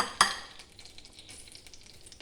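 A sharp clatter of a utensil against a pan, then a soft, steady sizzle of something roasting in a hot pan.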